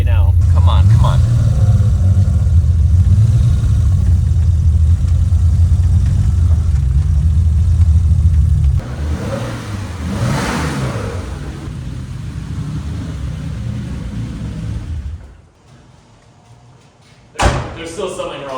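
A turbocharged BMW E28 engine running loud and rough up close, its idle surging before dropping away, then a door slam and a short revving burst; someone talks over it.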